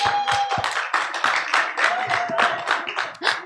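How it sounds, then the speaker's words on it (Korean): A small audience claps after a group presentation at a camp lecture: scattered, uneven hand claps rippling on for a few seconds, moderately close, with a faint voice mixed in. "첫 번째로 발표해준 사조에게 다시 한번 박수할까요?"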